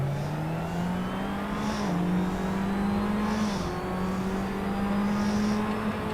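Race car engines hold a loud, steady drone in a racing video game, the pitch climbing smoothly through gear shifts with brief dips between, while another car's whine passes alongside.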